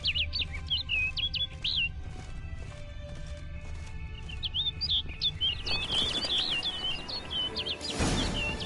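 A bird in The Witcher chirps in quick high twittering phrases, clear and fairly close, over a low ambient rumble. Rustling and noise rise later while the chirps continue.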